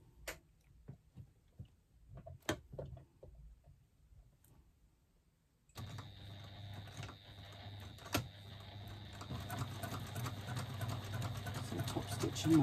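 A sewing machine top stitches leather card slots at a narrow seam allowance, starting after a stretch of scattered quiet ticks and handling noises, then running in a steady close whirring hum with faint speech nearby.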